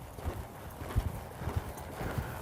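Horse hooves clip-clopping on an arena surface while a rider works on flying lead changes, a steady cluster of soft, near footfalls with a faint ambient background.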